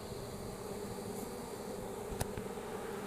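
A steady swarm drone of bees during a bee cutout at a church, thick and continuous buzzing with one brief click partway through.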